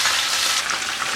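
Meat frying in hot oil on a home stove while Haitian griot is being made, a steady close hiss and crackle of sizzling with no talk over it.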